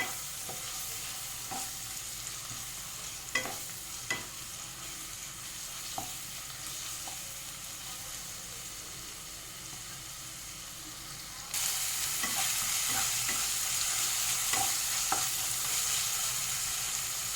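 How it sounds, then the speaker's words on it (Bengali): A spoonful of ginger garlic paste fries and is stirred in a pan, with a continuous soft sizzle and occasional spatula scrapes and taps, and the frying grows louder toward the end. "দিয়ে ভালো করে 2 থেকে 3 মিনিট ভালো করে ভেজে নিতে হবে, যাতে আদা রসুনের কাঁচা গন্ধটা না থাকে"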